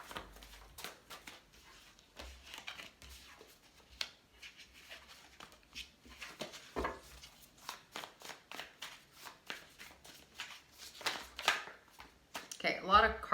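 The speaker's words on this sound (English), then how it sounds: "So let's pull your main cards here." Tarot cards being shuffled and pulled from a deck, a run of quick papery riffles and slaps close by, with brief gaps between bursts and a louder flurry at the end; no one talks.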